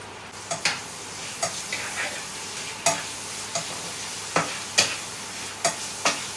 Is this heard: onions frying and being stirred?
yes